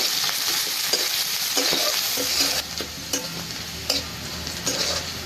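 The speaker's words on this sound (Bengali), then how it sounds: "পেঁয়াজটা দেওয়ার পর বেশ কিছুক্ষণ ধরে ভেজে নেব।" Chopped onions sizzle in hot oil with bay leaves while a spoon stirs them in the pan, giving a close, continuous frying hiss broken by scraping strokes and soft taps.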